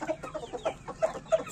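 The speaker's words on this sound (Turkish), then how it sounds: "Burada da iki horoz var." Roosters on a small farm cluck in about five short, evenly spaced calls, fairly close but quiet against a still background.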